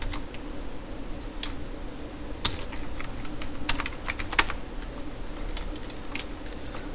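Keys clatter on a computer keyboard as a code comment is typed, quiet irregular tapping with a few sharper keystrokes standing out, no voices.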